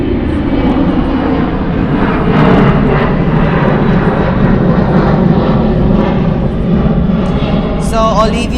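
Fixed-wing aircraft passing low over an outdoor spot beside an airport, a loud continuous engine roar filling the whole stretch with no break.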